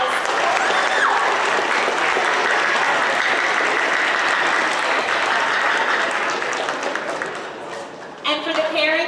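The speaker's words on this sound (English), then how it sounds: "So give yourselves a round of applause." Audience at a 6th grade school awards ceremony clapping in sustained, dense applause that fades near the end before a voice briefly speaks.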